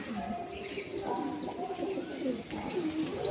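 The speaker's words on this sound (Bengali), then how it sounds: "নতুন তোমাদের এবার নতুন পায়রাটা দেখাই।" Pet pigeons in a loft coo and murmur repeatedly, with soft chirps mixed in, close by and moderately loud over a faint background hiss.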